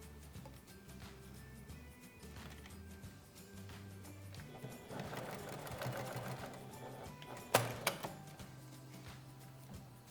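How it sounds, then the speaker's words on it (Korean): Sewing machine stitching about 1 cm on a small fabric card wallet neck strap, rapid rhythmic mechanical chatter in short runs, fairly faint, with a few sharper clicks near the end. "이 목끈의 디링을 아까 시접 쪽으로 조금 미신 다음에 이렇게 1cm 정도만 봉제를 해서 디링이 움직이지 않도록 고정시켜 주세요."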